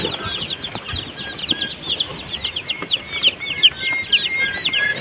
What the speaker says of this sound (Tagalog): Tapos, lalagyan na natin ating sisiw.